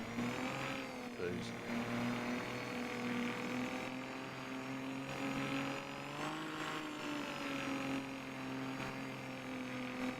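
A truck engine in a video game revs and whirs steadily with a harsh, strained mid-pitched drone and a brief dip early on, loud and continuous with no talk.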